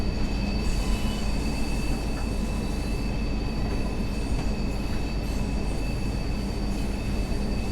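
A simulated ex-Arriva TfW Class 142 Pacer diesel railbus rumbles along the Cardiff City network, with a continuous loud low engine drone, steady wheel roar and faint high squeals, and no talk.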